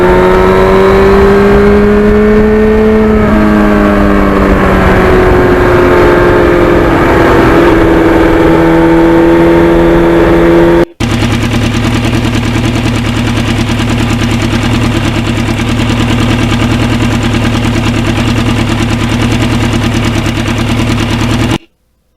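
A 1991 Yamaha FZR 1000 motorcycle on the road, its engine droning loud and steady with rising and falling revs, then settling into a constant even hum for the second half.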